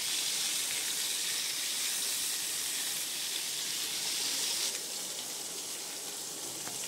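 Pointed gourd (potol) pieces fry in a pan that is covered now and then, giving a steady, soft sizzling hiss with no talk.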